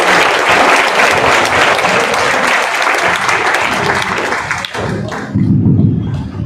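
A seminar audience gives loud, dense applause, clapping steadily for traders and business owners, with scattered thumps and a speaking voice emerging near the end as the clapping fades.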